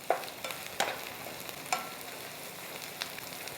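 Tomato puree for cashew paneer masala cooking down in a pan, with a few faint, scattered spoon scrapes and soft clicks over a quiet background.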